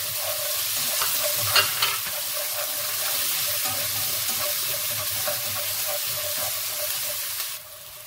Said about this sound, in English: I'm going to add the chopped up garlic and onions